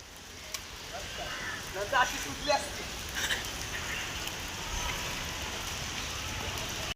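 Steady rain falls outdoors during a rainy cricket game, a constant close hiss with a few brief louder spatters and faint voices in the background.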